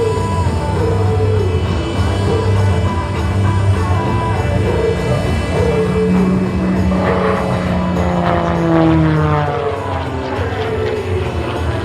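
An MXS-RH aerobatic propeller airplane performs at an airshow, its loud engine droning steadily with a rising and falling pitch that sweeps as it maneuvers, with no voices over it.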